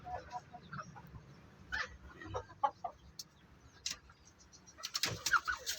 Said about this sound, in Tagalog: Yan yung ating manok.